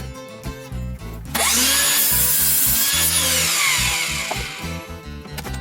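A saw cuts through pallet wood planks, kicking in after about a second as a loud, steady rasping grind that holds for several seconds before easing slightly.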